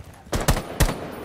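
Gunfire in Rainbow Six Siege: three sharp, close shots in quick succession, the first two nearly back to back and the third a moment later, each with a short ringing tail.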